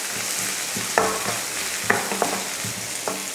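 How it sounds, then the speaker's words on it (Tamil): Onion, garlic and curry leaves sautéing in hot oil with mustard seeds already popped, making a steady loud sizzle throughout, with a few sharp clinks of a spoon stirring the pan, no voices. "இதை வதக்கிடலாம்."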